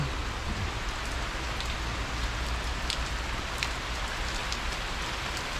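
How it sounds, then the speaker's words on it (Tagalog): Steady heavy rain pours down in Baguio in a dense, continuous hiss, with scattered sharper drops pattering on a nearby surface. "Oh, lalong lumalakas."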